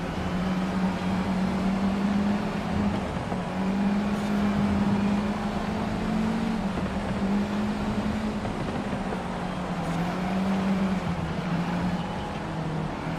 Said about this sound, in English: So of course we can tell this car is boosted.